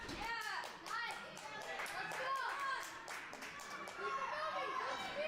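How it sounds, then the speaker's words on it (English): Teammates, buddies and family cheer and clap at a kids' ninja obstacle competition, a faint, busy crowd noise of claps and children's voices under a commentator's talk. "Probably hear his teammates and buddies and family cheering in the background"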